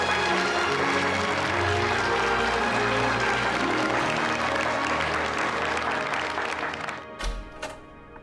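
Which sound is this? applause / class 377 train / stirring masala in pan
applause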